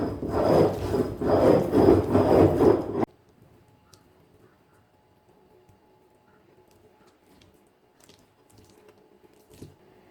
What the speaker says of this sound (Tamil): இப்போ தேவையான அளவு உப்பு சேர்த்து அரைக்கலாம்.